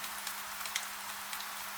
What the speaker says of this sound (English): Steady rain. Rain on tile. Rain on wood.